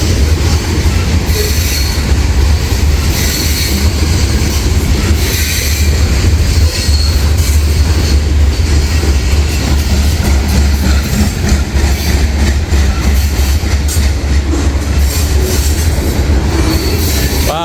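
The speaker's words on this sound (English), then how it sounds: "Supposedly this train has over 600 axles." A long freight train of more than 600 axles, with Missouri Pacific cars, rolls past at close range, a loud continuous rumble of wheels with rhythmic clatter and occasional squeal, running unbroken throughout.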